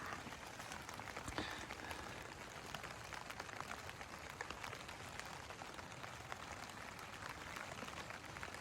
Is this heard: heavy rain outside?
yes